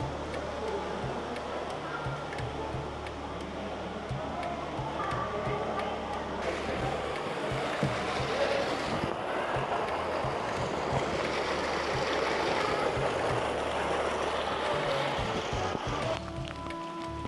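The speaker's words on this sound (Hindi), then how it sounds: "वेना और कृष्णा नदी का संगम." River water rushing steadily at the confluence of the Venna and Krishna rivers during the monsoon near Mahabaleshwar, a continuous broadband flow with faint voices in the background.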